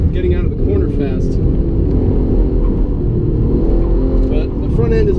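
Porsche 911 GT3 engine driven around a figure-eight course, a close, steady rumbling drone with a sustained low growl, under talking throughout.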